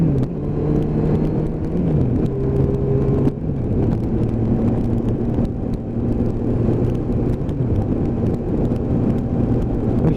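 Kawasaki GTR1400 shaft-drive motorcycle riding through a roundabout, a steady engine drone that shifts pitch as it eases off and pulls again, with wind noise over the microphone throughout.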